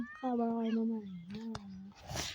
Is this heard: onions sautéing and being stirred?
no